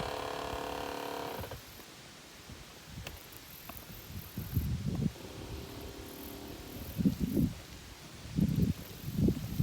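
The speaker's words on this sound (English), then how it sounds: "Windy today." Gusty wind blowing through trees at a Kentucky campground, rising and falling in rushing surges with rustling leaves, after a brief faint tonal hum at the start.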